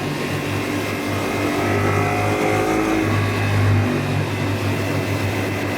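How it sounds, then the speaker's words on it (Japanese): A Honda Hawk 11 motorcycle engine revving at around 6000 to 7000 rpm in second gear on a freeway test ride, a steady droning hum with wind rush, swelling slightly midway, no voices. "2速で制限速度付近で走ると、だいたいエンジンの回転数は6000回転から7000回転あたりに到達します。"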